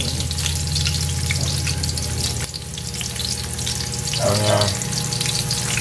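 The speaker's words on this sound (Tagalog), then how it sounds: "Gusto niya preto. Preto gisa." Crab sautéed in a pan with garlic, no coconut milk, giving a steady loud sizzle throughout with a brief stirring scrape and a faint word of speech near the end.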